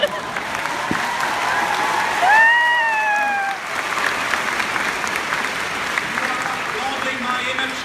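A Comic Con audience at a Sherlock panel in San Diego applauds, a broad crowd clapping wash heard up close, with a voice briefly rising over it midway.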